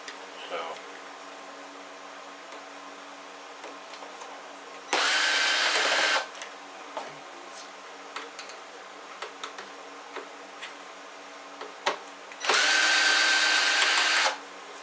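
A power screwdriver backs screws out of a Brother OT-448 boombox, two steady whirring bursts of about a second each separated by quiet handling clicks and ticks.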